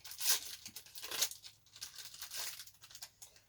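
Paper packaging of a small advent calendar gift is torn open by hand, giving several quick crisp rips and crinkles close up, with quieter rustling between bursts.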